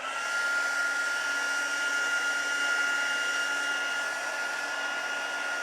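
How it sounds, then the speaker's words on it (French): A hot heat gun melting embossing powder blows a steady, loud whirring hiss of air with no pauses, a constant fan drone throughout. "mon pistolet à chauffer est déjà chaud"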